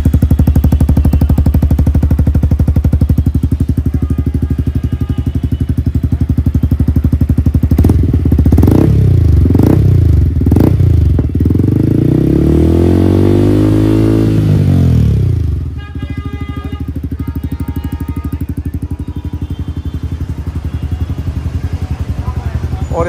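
A Yamaha R15 motorcycle fitted with an R1M full exhaust system idles loudly up close, then gets a few sharp throttle blips and one long rev that climbs and falls before it settles back to idle, with someone talking over it.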